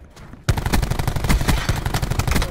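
Automatic weapon fire in a first-person shooter, a burst of rapid, evenly spaced shots that starts suddenly after a quiet moment and keeps going loud and close.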